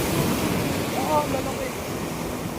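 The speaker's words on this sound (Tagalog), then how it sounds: "Lakas ng alon, oh, grabe." Strong ocean surf rolls in at a beach in Mauban, Quezon, a loud continuous wash of waves mixed with wind buffeting the microphone.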